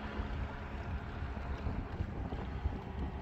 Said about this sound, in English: So even now the wind just picked up again